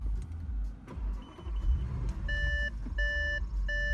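A 2015 Audi A7 idles steadily after a push-button start, a low continuous engine rumble under repeated electronic chime beeps in the cabin.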